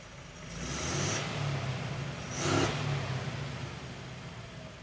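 An old Bedford truck engine idling with a low, steady rumble. Two brief hissing bursts rise over it, one near the start and one about halfway through.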